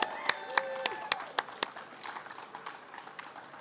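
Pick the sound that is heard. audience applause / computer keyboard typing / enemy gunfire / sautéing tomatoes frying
audience applause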